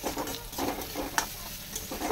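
Grated carrots are stirred into semolina upma frying in a pan, giving soft repeated scraping strokes over a faint sizzle, quiet and close.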